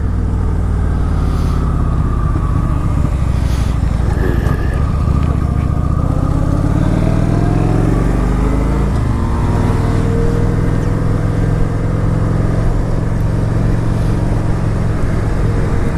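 Kawasaki Vulcan 900 cruiser motorcycle on the road, a loud continuous engine drone with wind rush as the rider accelerates and shifts, pitch rising and settling over a steady ride.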